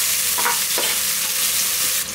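Sliced large onions and four slit green chillies fry in hot oil for a country chicken biryani, giving a steady, loud hiss and sizzle with faint stirring scrapes throughout.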